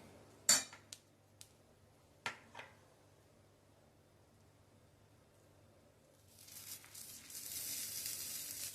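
Homemade butter melts onto a potato-topped spongy dosa in a hot pan: a few sharp utensil clinks come first, then a soft, steady sizzle builds and carries through to the end.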